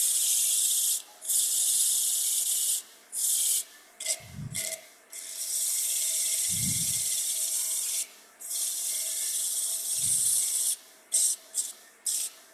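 Sandpaper rubbing against a spinning wood turning on a lathe, worked up to about 240 grit; a steady, loud, hissing scrape runs almost continuously, broken by brief pauses, with a few low thumps.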